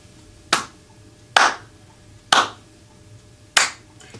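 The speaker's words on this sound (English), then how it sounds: "then they clapped when the police enforced the law against high prices" Four separate sharp claps, about a second apart, from people waiting in line to buy ice after police enforce the law against high prices. Each clap is crisp and fairly close, standing alone over a quiet background.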